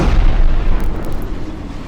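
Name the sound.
aircraft shot down by missile explosion, VTOL VR video game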